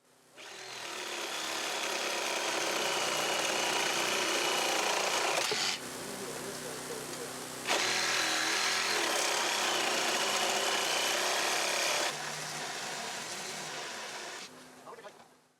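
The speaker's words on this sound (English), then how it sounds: "An optional part of the dash roll is to cut the dash straps that connect the floorboard to the transverse beam in the dash." A hydraulic rescue tool cuts the dash straps linking the floorboard to the dash beam during a vehicle extrication drill, giving a long steady mechanical whine that pauses briefly and resumes, with faint voices in the background.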